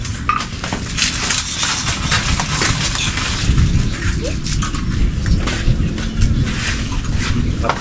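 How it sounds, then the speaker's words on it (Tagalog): Rain falling on a farm, a dense, continuous patter with irregular sharper drops, fairly loud and close. "Ulan na."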